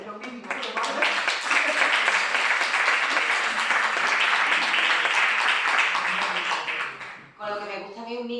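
An audience at a Spanish book presentation applauds, a dense, loud burst of many hands clapping that swells quickly, holds for several seconds and then cuts off, followed by a speaker's voice resuming.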